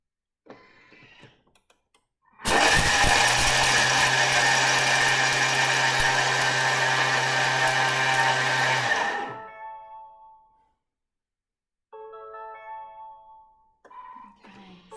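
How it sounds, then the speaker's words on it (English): A Thermomix TM6 grinding lemon pepper at speed 9.5 roars loudly and steadily for about six seconds with a high whine, then winds down and stops, followed by light clicks and small kitchen sounds. "we're grinding again, so it'll be a bit noisy"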